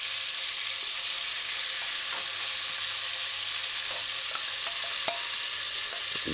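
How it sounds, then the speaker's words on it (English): Bone-in chicken pieces frying in heating oil in a saucepan, a loud, even, continuous hiss and sizzle close by, with faint scattered pops and a low steady hum; no talking. "Put each piece on the bottom in its own little space on the bottom of the saucepan in the heating oil."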